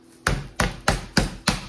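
A meat mallet pounds a raw chicken breast covered in plastic, five sharp, evenly spaced thuds close to the mic with short decays between them.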